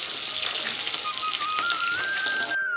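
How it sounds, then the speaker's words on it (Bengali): Fish frying in a pan on a home stove, a steady dense sizzle filling the upper range without pause, close and fairly loud, with a faint rising whine in the background and no talking. "আর এইদিকে মাছ ভাজা হতে থাক।"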